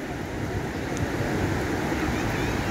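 Ocean waves wash onto the sand near the southern corner of a beach in Ubatuba, Brazil, a steady, loud, broadband roar of surf with some wind rumble, continuous and close, with no talking.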